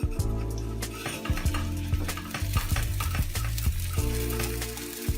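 Cornmeal, three tablespoons, stirred and toasted in melted butter in a pan, a steady sizzle with repeated scraping of a utensil against the pan, close and continuous, no voices.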